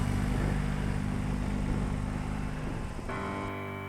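The big boxer engine of a BMW R 18 motorcycle gives a steady, deep, throbbing rumble close by, fairly even in level, with its tone shifting slightly near the end.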